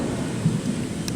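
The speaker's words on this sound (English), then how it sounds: "It's starting to rain now, so I gotta go." Thunder rumbles low and continuous outdoors in Houston as rain begins to fall, with a faint hiss of drops across the brief stretch and no voices.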